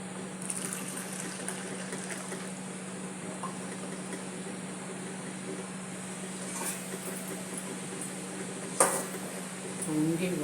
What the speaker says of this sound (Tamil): பொங்கி வருது. கொஞ்சம் பொங்கி வரட்டும்.